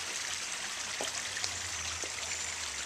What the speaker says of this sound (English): And this is her waterfall.